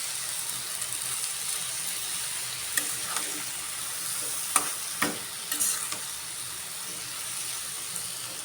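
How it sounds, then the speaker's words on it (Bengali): Malabar spinach leaves are stirred with spices in a pan with prawns, giving a soft continuous sizzle and hiss broken by a few light scraping clicks of the spoon, close and fairly quiet, with no talk. "সব মশলার সাথে একসাথে পাতাগুলো মিশানো হবে"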